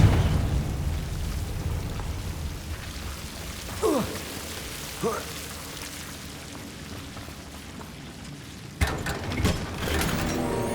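Confringo spell explosions in Hogwarts Legacy: two short whooshing bursts land a second apart over a steady rumbling game background, followed by a louder crackling blast near the end.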